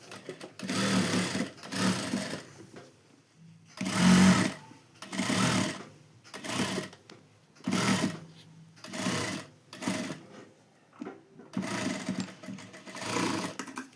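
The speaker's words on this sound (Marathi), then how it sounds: "आता इकडल्या साईडला पण अशीच लावून घ्यायची." A sewing machine stitches fine lace onto a seat cover in loud, close bursts of rapid mechanical whirring, about ten runs separated by short pauses, with no talk.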